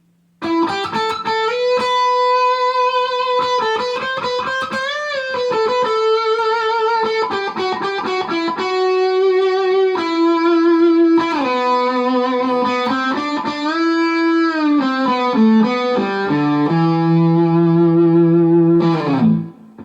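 Sustained, heavily distorted electric guitar notes with a wide, expressive vibrato, played alone and loud, ending with a low held note.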